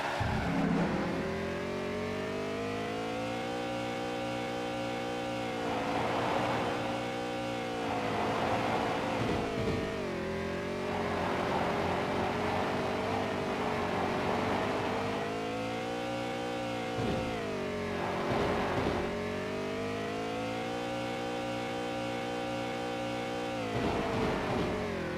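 Chiptune race car engines from the Cars game on Game Boy Advance drone continuously, buzzy synthesized tones rising and falling in pitch as the cars accelerate and shift, steady and loud throughout.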